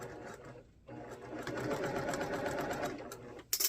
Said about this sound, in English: Now I am going to sew a little bit slower through these just because there is a lot of seams